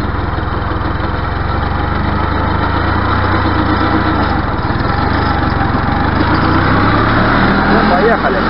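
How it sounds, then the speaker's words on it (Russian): A mini tractor engine runs loud and steady, close by, as it is put into first gear and starts to move off while lowering a plate, its low drone rising slightly toward the end. "включаем первую передачу, сейчас начинаю трогаться и опускаю плиту."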